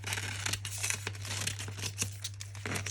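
Scissors cut through a large cellophane bag, giving dry crinkling and crackling with sharp snips scattered through the few seconds, close and fairly quiet with a steady low hum behind it.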